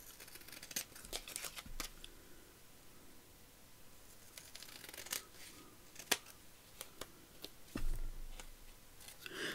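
Scissors make several small crisp snips as excess tape is trimmed, close and quiet, with light handling rustles between the cuts.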